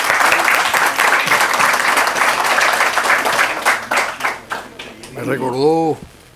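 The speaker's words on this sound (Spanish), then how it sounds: "Vamos a recibir con un aplauso a nuestro presidente." Sustained applause from an audience at a book presentation fills most of the clip, dense and steady, welcoming a president, then fades as a voice begins speaking near the end.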